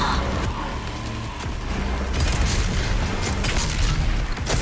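Shooting enemies in the video game Doom Eternal, a loud continuous barrage of booming shots and impacts over heavy rumbling game noise, dense and close throughout.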